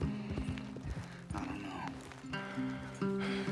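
Horse hooves clip-clop steadily through the open-world western game Red Dead Redemption 2, with an occasional whinny and faint background game sounds, continuous and close.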